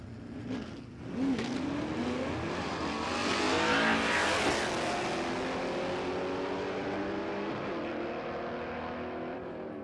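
Two Ford 351 XA Coupe drag cars with manual gearboxes race side by side at a dragstrip, a loud sustained engine roar that builds over the first few seconds, peaks, then slowly fades as they pull away.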